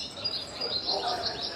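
Birds chirp and tweet overhead on the top deck of Royal Caribbean's largest cruise ship, a steady scatter of high, faint calls over a soft, humid ambient background with no one speaking.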